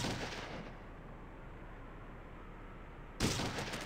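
Gunfire in Fallout 2, a booming shot fading into a long rumbling tail, followed by another sharp loud blast near the end, close and with no talking.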